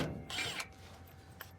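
A power tool zips out the 14mm bolts on a Toyota Tacoma carrier bearing, giving a couple of short whirring bursts close by in a garage setting.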